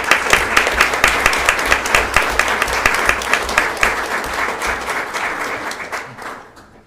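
An audience at a school board meeting applauds athletics award winners, a dense steady clapping that holds for several seconds and then tapers off, with a faint murmur of voices beneath.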